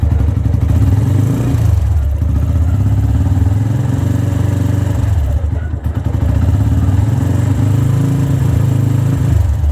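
A self-start motorcycle engine runs steadily after being started, with a loud, continuous mid-pitched idle and mechanical clatter throughout and a brief dip partway through.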